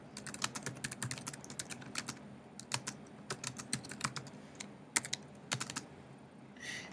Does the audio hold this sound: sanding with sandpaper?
no